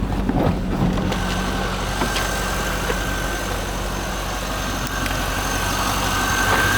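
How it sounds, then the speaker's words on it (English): A 1998 Corvette's 345 hp LS1 V8 idles steadily after starting, a loud, even, low rumble with a constant hum and no talk. "This engine starts right up."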